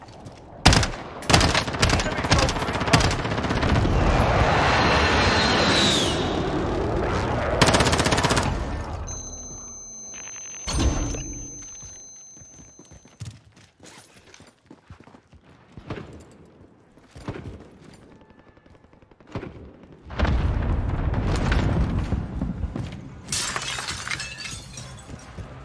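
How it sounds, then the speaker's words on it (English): Call of Duty Warzone battlefield din with a precision airstrike: loud blasts, shattering debris and bursts of gunfire crowd the start, then a quieter stretch broken by isolated impacts before another heavy roar of explosions near the end. "Be advised, friendly precision airstrike inbound."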